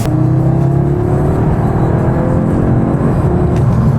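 A car engine runs loud and close with a steady low drone and a slowly rising pitch as it revs, with no talk.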